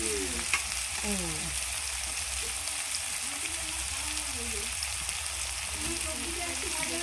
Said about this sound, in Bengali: হালকা করে ফ্রাই করে নিচ্ছে